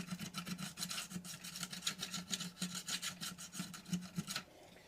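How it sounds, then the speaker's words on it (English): A sanding stick rubs back and forth along wood to clear drill burrs, making a steady rhythmic rasping of about twenty close, even strokes that stop just before the end. "run the sanding stick along there to get rid of the burrs left by the drill"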